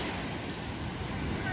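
Ocean waves at Lampuuk beach in Aceh, a continuous broad wash of surf with wind buffeting the microphone, loud and close.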